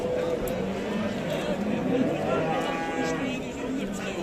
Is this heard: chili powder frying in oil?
no